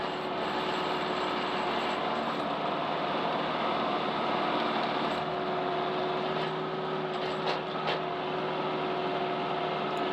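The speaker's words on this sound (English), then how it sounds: "this little tractor is doing an awesome job" A small Massey Ferguson 2860E tractor engine runs steadily at close range with a constant droning hum and a few faint mechanical clicks, no voices.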